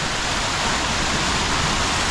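A fountain-like sculpted waterfall in Uptown Columbus, Georgia, with a snake design at its center, pours in a steady, dense rush of falling water, close and unbroken throughout.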